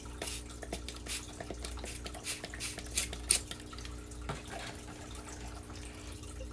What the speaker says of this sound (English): I have this little like stick, and just mix it in.